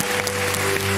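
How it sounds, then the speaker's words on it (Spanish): Studio audience applause on a Spanish afternoon television program, a brief continuous burst of clapping with a faint hum underneath. "Y eso se merece un aplauso."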